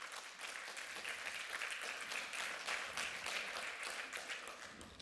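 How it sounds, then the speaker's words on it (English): Audience applause welcoming a speaker at a talk, a continuous burst of many hands clapping, steady and moderately loud throughout. "let's give her a warm welcome and a round of applause"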